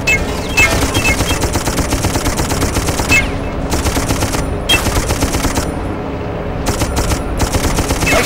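Gunfire in the video game Darkest of Days comes as loud, sustained automatic bursts with rapid repeated shots, broken by a few short pauses as the firing stops and starts.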